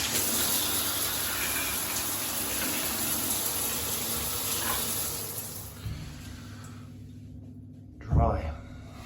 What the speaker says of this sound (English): so we'll fit the shower back on and we'll turn the water on again